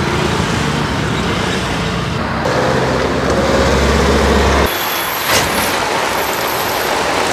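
Heavy traffic rumbles along the Mapusa main road, with trucks, buses and cars passing close by in a dense, continuous roar. The noise drops off abruptly partway through, with no voices.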